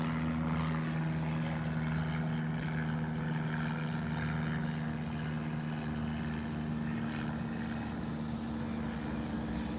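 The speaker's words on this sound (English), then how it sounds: "Here's a plane right over my head." A droning aircraft engine hums steadily overhead, a sustained low tone with a broad rushing wash that holds at a constant level.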